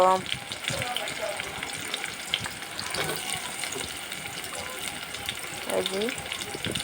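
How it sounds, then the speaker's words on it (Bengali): Chopped onion and garlic go into a hot pan and fry with a steady, hissing sizzle that holds close and fairly loud throughout, with faint background voices. "দেখতেছেন পেঁয়াজ কুচি আর রসুন কুচিটা দিয়ে দিচ্ছি"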